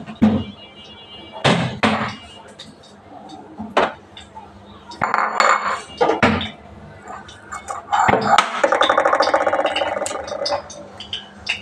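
An egg cracked into a hot pan of oil in a home kitchen, with sharp clinks and knocks of cookware followed by a steady sizzle building near the end, alongside scattered voices.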